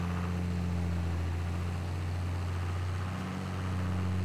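A steady low engine drone from a tractor hauling a seeder in Farming Simulator 22 runs continuously with a slight dip in pitch near the end, close and even.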